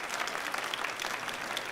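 An audience at a holiday tuba concert applauds a performer, a steady wash of many hands clapping at a moderate distance for a short burst, with no one speaking over it.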